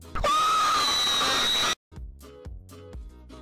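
A loud sustained shriek plays as a stream alert sound effect, cutting off abruptly and followed by a quieter string of rhythmic tones.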